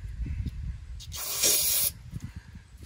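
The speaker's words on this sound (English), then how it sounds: "this brake parts cleaner got out just by spraying it on there" One short hissing burst of brake parts cleaner sprayed onto RV suspension parts and threads, close and loud for under a second, with soft handling noises around it.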